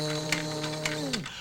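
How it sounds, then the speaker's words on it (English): A household vacuum cleaner runs with a steady droning hum that slides down in pitch and winds off near the end, with a few soft clicks over it. "the vacuum cleaner is supposed to sound like..."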